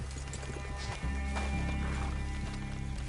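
Horse hooves clip-clopping in the video game Red Dead Redemption 2, a steady rhythmic trot of several hooves with a brief whinny, close and clear against a low ambient music bed.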